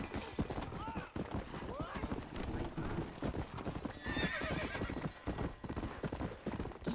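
A black horse gallops in the video game Red Dead Redemption, rapid rhythmic clip-clop hoofbeats running throughout with a whinny early on, while someone talks over it.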